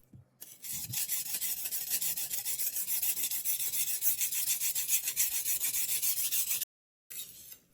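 A knife blade rasps back and forth across a sharpening stone in quick, even strokes, a close, gritty scraping that runs steadily before a brief pause and a short resumption.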